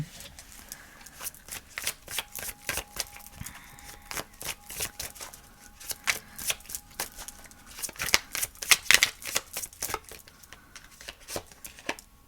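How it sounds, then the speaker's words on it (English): Tarot cards are shuffled close by in quick, uneven bursts of crisp riffling and flicking taps, with no talking. "as I was shuffling"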